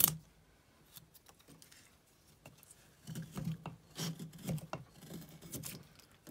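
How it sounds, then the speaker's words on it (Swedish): A small carving knife with a narrow, sharp blade whittles wood in scraping, rasping strokes. The cuts are quiet at first and then come as louder, fairly regular strokes close by. "Den här är mycket lättare att tälja med."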